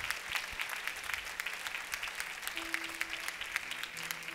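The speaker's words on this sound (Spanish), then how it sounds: "Una vez más, hermano, dele ese aplauso a nuestro Dios." A church congregation applauds in a continuous, fairly soft wash of clapping with scattered sharper individual claps and a faint steady hum beneath, heard from a little distance.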